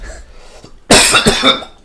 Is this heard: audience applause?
no